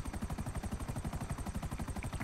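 A helicopter in the game GTA V Online thumps with fast, even rotor pulses, a steady rhythmic beating at moderate loudness with no voices.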